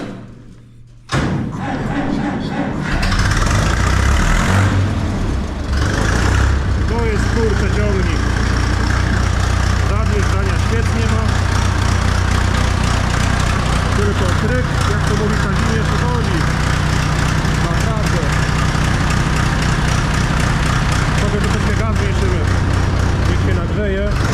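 After a thud, a heavy engine starts and idles with a deep, steady rumble and rattle, while a voice talks over it.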